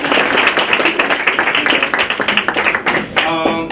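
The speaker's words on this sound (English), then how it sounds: "Can we get a little clap for this?" Audience clapping at a high school Unity Luncheon, a brief burst of scattered hands with uneven rhythm, fairly loud and close, with voices mixed in and a sharp tonal squeak near the end.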